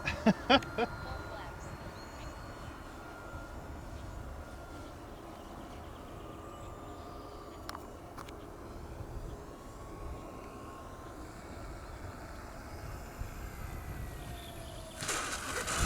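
An Arrows 1400mm Sky Cruiser PNP RC airplane at full throttle on its maiden flight gives a steady, fairly distant motor drone, heard over constant outdoor wind rumble with a few brief knocks near the start.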